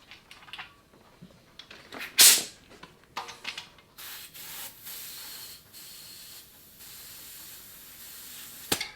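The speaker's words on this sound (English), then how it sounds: "So you can inflate with the compressor" An air compressor pushes air into a road tubeless tyre, a few short hisses and clicks giving way to a steady, moderately loud rushing hiss of air with faint rhythmic pulsing.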